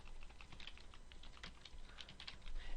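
Fast, light typing on a computer keyboard: a quick, irregular run of soft key clicks, close and fairly quiet, with no voices.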